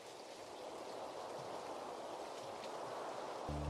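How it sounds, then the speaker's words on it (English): Steady, even patter of rain in a video game, a soft continuous wash of droplets with no voices. "Oh, and now it's raining."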